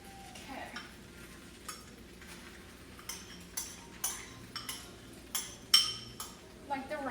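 A utensil scrapes and clinks against a pan while cooked rice is mashed and broken up for fried rice, with scattered taps over a faint sizzle.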